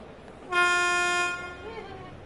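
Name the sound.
ScotRail train pulling out of Glasgow Central in train game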